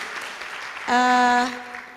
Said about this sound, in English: Another applause for Jalaluddin, for Professor Kim.